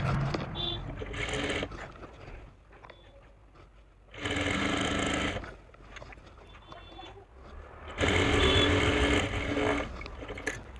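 A sewing machine stitching the hem of loose palazzo trousers runs in three distinct bursts of rapid whirring, separated by short quiet pauses filled with faint handling noise.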